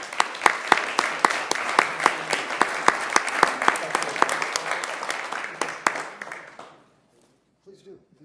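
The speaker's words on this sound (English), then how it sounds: "Let's give a round of applause, please." A crowd at a Sioux Falls council meeting claps for about seven seconds. Sharp individual claps stand out over the steady patter, which then fades into near silence.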